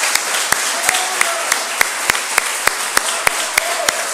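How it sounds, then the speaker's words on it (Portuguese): A church congregation claps in a steady, even rhythm, sharp hand claps repeating about three times per second over a low murmur of the room. "Vamos dar uma salva de palmas."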